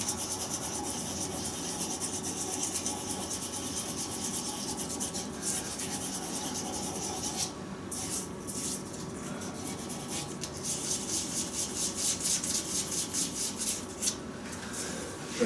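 Sandpaper works a turned resin shaving brush handle spinning on a lathe, a continuous close rubbing hiss that briefly dips, then returns in quicker rhythmic strokes.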